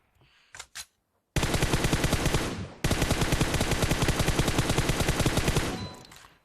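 Sustained automatic gunfire from the mobile shooter game PUBG Mobile, two long loud rapid bursts after a couple of short earlier shots, with no talking.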